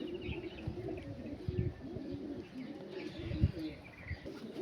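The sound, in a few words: Andhra kalaka pigeon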